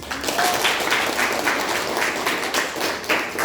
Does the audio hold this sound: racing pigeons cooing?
no